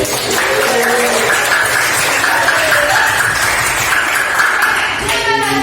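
Classroom applause from students clapping for a pupil, sustained and dense throughout, with faint voices and a tonal ring underneath near the end.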